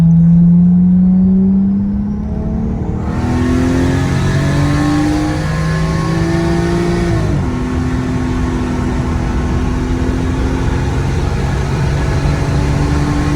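A single-turbo 1JZ engine in a Toyota Soarer revs up and accelerates hard, its pitch climbing through several gear changes, heard from inside the cabin with windows up and a steady roar underneath.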